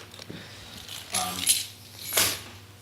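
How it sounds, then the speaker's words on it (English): Keys jangling briefly as they come out of a pocket, a few light metallic bursts close by, with faint room noise and no talk. "let me take my keys out because I'm going to end up making noise with that"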